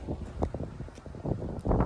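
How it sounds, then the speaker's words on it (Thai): Wind gusts outdoors on a National Day outing in Thailand, a close, steady rumbling buffet against the microphone that rises and falls in rough pulses. "ลมก็พัดสบายสบาย"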